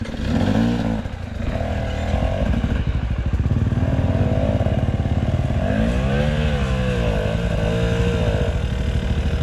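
A motorcycle engine runs loudly and steadily, its pitch rising and falling as it revs, close by with no voices.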